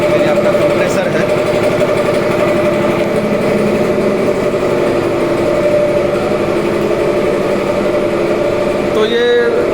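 A compressor or car pressure washer runs in a small car detailing studio, giving a loud, steady mechanical drone that holds unbroken from start to finish.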